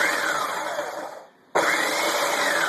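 Loud, whirring blender blitzing salad dressing ingredients, running steadily, briefly winding down to near silence, then roaring back up at full speed; no talk.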